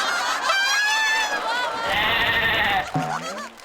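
A man imitates a goat's bleat in place of a tiger's roar on a Marathi comedy stage, producing a wavering, nasal bleating call that runs loud and close for several seconds before breaking off.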